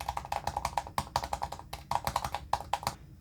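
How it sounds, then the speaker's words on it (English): Rapid typing on a MacBook Pro keyboard, a steady run of crisp, close key pops with brief pauses between bursts, with no talking. "if I just go ahead and type out something,"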